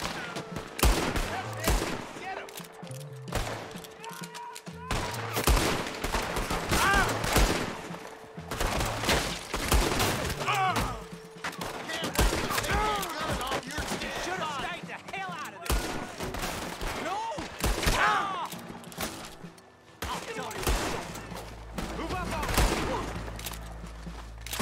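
Gunfire in the Red Dead Redemption 2 video game, dense volleys of rapid rifle and pistol shots cracking near and far throughout a long firefight, with voices shouting between and over the shots.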